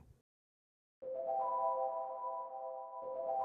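A vintage plate reverb effect rings out on a sustained tone after a short silence, with a bright steady ring that thins and then swells again.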